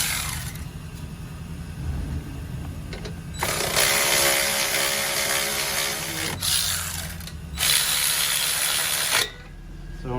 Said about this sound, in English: And you just grab your 10 millimeter, your 12 millimeter, tighten those down